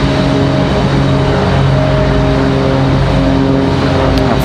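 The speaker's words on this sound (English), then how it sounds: "Delta 3245 coming in from Atlanta. It's going to be a 737-900." A Delta Boeing 737-900 airliner arrives at Raleigh Durham International, its engines a loud, steady, close roar with droning tonal whine throughout.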